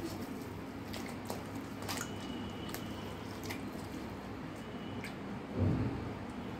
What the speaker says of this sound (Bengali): এটাও তাই করছি, একটু জলে দিয়ে এইভাবে চটকে নিচ্ছি।